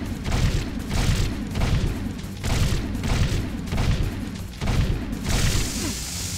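Gunfire in Jak 2: Renegade, repeated heavy booming shots in a steady rhythm of bursts, loud and close, with no talk over them.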